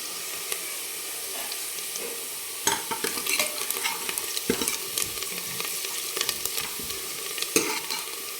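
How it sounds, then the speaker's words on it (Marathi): Onions stir-fried until golden in a pan for a Maharashtrian mutton curry, giving a steady sizzle with scraping stirs and occasional louder clatters, close and continuous throughout. "आपण चांगला आता कांदा सोनेरी कलरवर परतून घेऊ"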